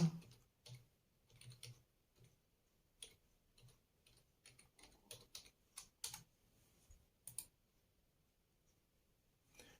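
Irregular bursts of keyboard typing, clicky keystrokes in quick clusters with short pauses, close and fairly quiet, no voices.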